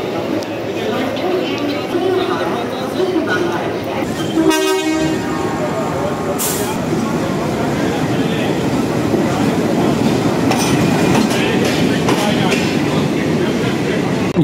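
Howrah–Jodhpur Superfast Express, train 12307, at platform 9 of a busy station at night: steady rumble of rail cars and crowd murmur, with a short loud horn blast near the middle and people talking throughout.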